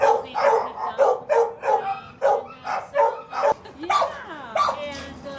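Dogs at an animal shelter bark repeatedly in a steady series of loud, close barks, with a higher whimpering yelp near the end.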